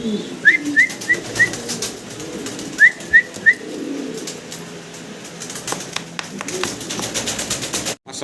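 Fancy pigeons in breeding mode call in two short bursts of quick whistled notes, close and clear over a muffled background with faint voices.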